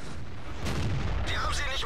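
Tank cannon firing high-explosive shells into dirt in World of Tanks, with a heavy boom and a rumbling impact that is followed by a second blast, over continuous background noise.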